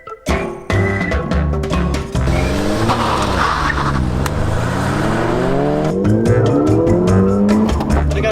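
A Volkswagen Golf GTI and a Ford Fiesta ST launch with heavy wheel spin, engines revving loudly as tires squeal and skid, then pitch rises and drops through gear changes in a close, sustained roar.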